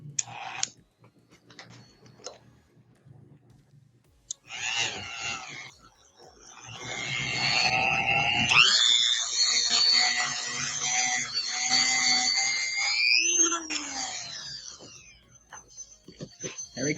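A free gyroscope's flywheel, part of a gyro compass trainer, spins up toward about 3,000 RPM, a whirring tone rising in pitch and swelling to a steady hum after some light handling clicks.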